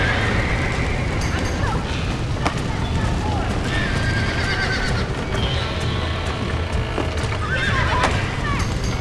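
In a Red Dead Redemption game scene, horses whinny and neigh over a steady clatter of hooves, with shouting voices and a dense, loud rumble of activity throughout.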